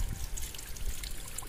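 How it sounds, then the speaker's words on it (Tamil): Water seeping and trickling inside a cave, a steady faint watery dribble with soft low rumble throughout, no voices. "அந்த ரோட்டுக்குள்ளேருந்து தண்ணி எப்படி வந்து தண்ணி ஊறுதுன்னு நீங்களே பாருங்க."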